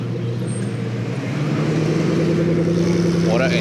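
A Koenigsegg supercar at a night car meet in Tokyo revs its engine close by, a loud, sustained roar that climbs in pitch toward the end amid steady background rumble.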